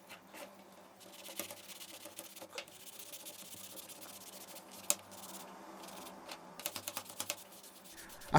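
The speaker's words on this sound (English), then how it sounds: "it's time for a well overdue clean with saddle soap" A stiff leather rifle sling is scrubbed with saddle soap, giving quiet, close rubbing and brushing strokes with scattered sharp clicks and taps.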